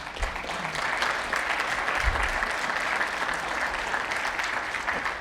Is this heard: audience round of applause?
yes